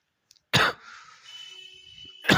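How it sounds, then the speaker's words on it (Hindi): A single sharp cough, then a faint high electronic tone lingering, and another cough bursting in at the end; no talking. "बहुत खांसी हो रही है"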